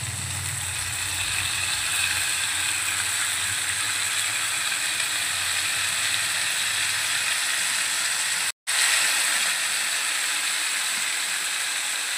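Mutton keema hisses and sizzles steadily in a hot pan for Hyderabadi-style keema, a continuous broad frying crackle with faint clicking, broken by one brief dropout near the end.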